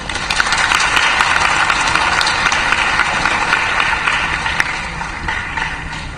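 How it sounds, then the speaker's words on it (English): An audience applauds at the closing ceremony of a short film festival, a dense, steady wash of many hands clapping that stays full and loud throughout, easing slightly toward the end. "I think a big round of applause is due to them"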